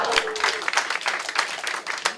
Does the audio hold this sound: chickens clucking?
no